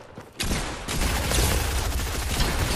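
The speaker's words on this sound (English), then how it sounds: "He's shooting again, I'm dead." Dense Fortnite gunfire bursts in after a brief quiet moment, a sustained loud fusillade of overlapping shots that stays close and fills the rest.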